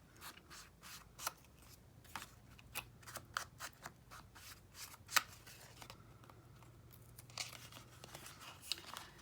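Scissors snipping paper to make a school-days ring-bound journal, a steady series of close, crisp cuts with faint rustling and crinkling between snips, no voices.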